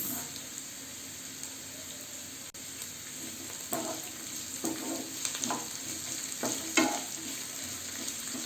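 Carrots and beans stir-frying in a pan for Hakka noodles give a steady, soft sizzle, with occasional scrapes and knocks of a spatula stirring the vegetables.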